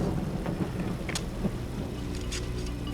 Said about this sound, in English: It doesn't look like this rain is going to let up.